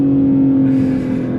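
A BMW G80 M3 drives along with a steady, loud engine drone and constant road rumble, the tone holding even throughout with no talking over it.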